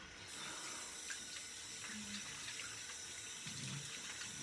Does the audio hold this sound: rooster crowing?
no